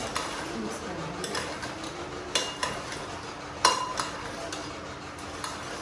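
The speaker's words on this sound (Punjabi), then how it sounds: "ਸਾਰੀ ਸਬਜ਼ੀ ਨੂੰ ਮਿਕਸ ਕਰਤਾ" A spoon scrapes and clinks against a pan while stirring vegetables with red chilli and turmeric, with irregular metallic taps over a soft sizzle and a low steady hum.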